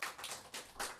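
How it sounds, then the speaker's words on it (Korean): A church congregation at a Sunday service in Seoul claps in thanks, a faint, distant patter of hands in a few soft bursts across about a second. "감사의 박수."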